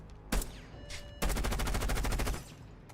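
Gun firing in the Rainbow Six Siege video game: a short burst near the start, then a loud sustained stream of rapid automatic shots lasting over a second, close and dominant.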